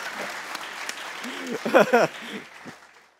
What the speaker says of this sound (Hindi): अबे तालियां क्यों बजा रहे हो यार?